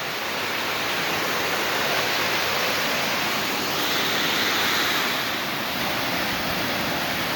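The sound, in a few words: waterfall at top of Sidewinder Falls, Bear Creek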